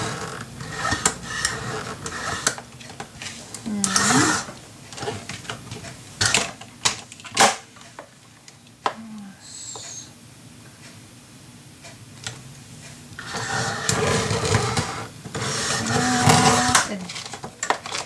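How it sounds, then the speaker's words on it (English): A paper trimmer cuts paper for a handmade mini album, with clicking, sliding blade strokes and rustling paper up close, in bursts and pauses, while a person speaks briefly. "I am going to cut this, and I hope my paper trimmer cuts this."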